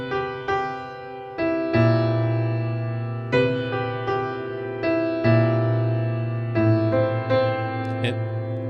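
Piano played with the sustain pedal held down through a passage of a song, each new chord struck over ringing earlier notes so the sound blurs into a thick, smeared wash, close and solo without voices.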